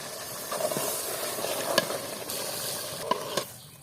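Rooster meat and spices frying in a pot, a steady close sizzle broken by a few light clinks and scrapes from stirring. No one speaks.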